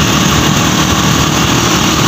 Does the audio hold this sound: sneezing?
no